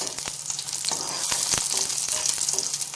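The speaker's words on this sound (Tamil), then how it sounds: "இந்த மிளகாயை வதக்கும் போதே உள்ள உரப்பெல்லாம் இந்த எண்ணெயில் இறங்கிடும்." Green chillies sauté in hot oil with a bright, crackling sizzle, and a spoon scrapes the pan in short repeated strokes close by. There is no talking.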